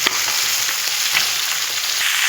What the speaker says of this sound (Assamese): তেলখিনি গৰম হোৱাৰ পিছত দি দিছোঁ মাছটো